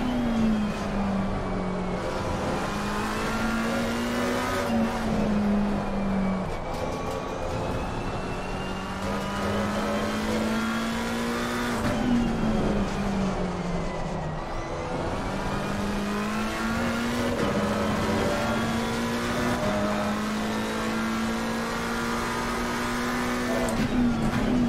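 Race cars in a sim racing esports event at Valencia roar continuously, engine notes rising through gears and dropping on braking in repeated cycles, loud and steady throughout with no talk.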